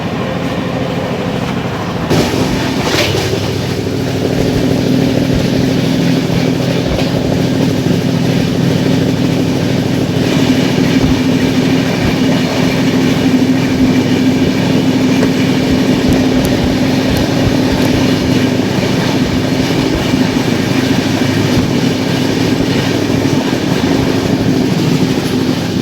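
Steady loud rumble and rattle of an express passenger train running at 130 km/h on rails, continuous throughout with a low droning hum and a brief clank near the start.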